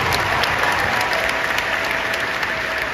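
Audience applause at Tyler Perry's Invest Fest 2022 talk: a loud, dense, steady wash of many hands clapping that fills the full three seconds with no talk.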